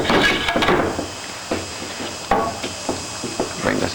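Hammer knocking a bushing into an aircraft main gear leg, several sharp irregular thunks and taps at close range, with a louder strike partway through.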